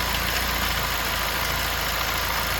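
A 2007 Ford Focus SES engine idling a little rough just after a spark plug change, a steady close engine drone with a fine, slightly uneven pulsing and no voices.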